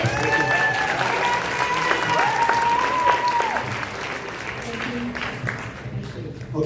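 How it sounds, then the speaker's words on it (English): Applause for two mayoral candidates at a candidate forum at the Asia Pacific Cultural Center, a steady crowd clapping that eases off midway, with faint voices and a brief whistle mixed in. "Can everybody give a round of applause to our two candidates?"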